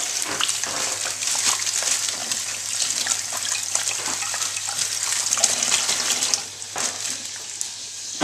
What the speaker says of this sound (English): you want to come over here and wet them.